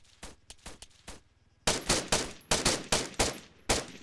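Gunfire in the military shooter Arma 3: a few scattered sharp shots, then a steadier string of loud, close reports cracking out one after another with short gaps.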